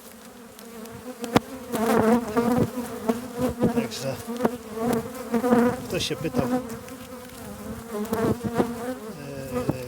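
Dense, steady buzzing of many honey bees close by during an October hive inspection, a continuous insect drone with a brief voice speaking over it.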